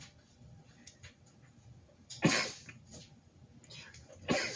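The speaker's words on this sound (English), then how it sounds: "I have a sneeze coming on" Against a quiet background, a sharp sneeze bursts out, followed a couple of seconds later by a second one.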